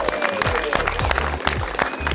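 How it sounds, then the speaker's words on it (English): Crowd at a house auction claps briefly after a sale, a short burst of dense applause with scattered louder hits and some background movement. "Round of applause,"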